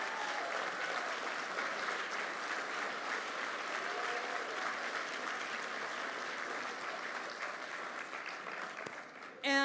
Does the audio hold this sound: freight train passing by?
no